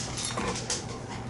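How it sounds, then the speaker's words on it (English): A dog gives a brief, close whimper and bumps into the camera, a short scuffling burst lasting about a second. "that was my dog"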